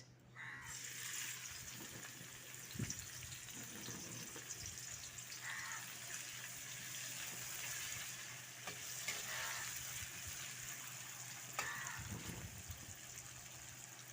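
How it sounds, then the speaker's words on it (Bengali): Chopped onion dropped into oil in a wok sets off a soft, continuous frying hiss, with occasional spatula scrapes and knocks over a long stretch, faint and without speech. "কড়ার তেলে দিয়ে দিচ্ছি একটা কুচনো পেঁয়াজ"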